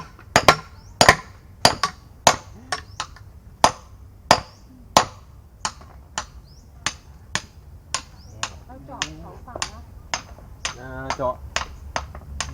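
Repeated hammer blows into a hardwood log while inoculating it for log-grown mushroom cultivation, sharp close knocks at an uneven rhythm of roughly one or two per second, with brief talking in between.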